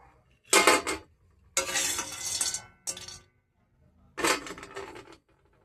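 Fried lentil dumplings (bori) are lifted out of a pan in four loud bursts of metal utensil scraping and clattering against the pan, separated by short silences.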